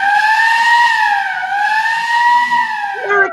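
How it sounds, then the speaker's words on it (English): A car siren sound effect in a live radio play wails loudly and continuously, its pitch rising and falling in slow sweeps before a brief clatter at the end. "Should hop in the car. Take you home. Oh, you will, Bert? Will you do that? And will you turn the sirens wide open?"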